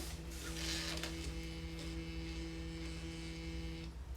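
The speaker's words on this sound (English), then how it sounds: "And then once you do that, turn the printer on." A DTF printer whirs and hums steadily as it powers up and runs its startup cycle, with a constant motor drone and a few faint mechanical clicks, heard close with no talking.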